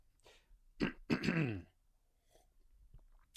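One person clears their throat in a couple of harsh, raspy bursts, followed by quieter small coughs and breaths, close up.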